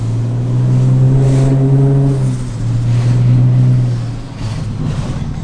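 A Ford Barra car engine hums steadily at a low pitch, rising and falling slightly as it drives, loud and close with no talking.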